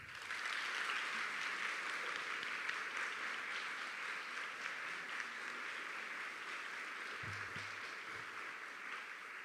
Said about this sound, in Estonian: Teeme Ruudile veel ühe aplausi.